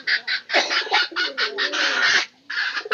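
Pigeons at feeding time call in a series of close, pulsing bursts, throaty coos and rough vocal notes repeating with short pauses between them.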